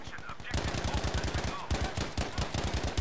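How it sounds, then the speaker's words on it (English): Automatic gunfire in the video game Battlefield V rattles in rapid, unbroken bursts, loud and close, the regular shots packed several per second for the whole stretch. "Fuck, I'm shooting this guy!"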